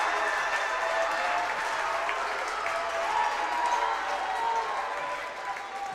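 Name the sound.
applause from volleyball fans after a rally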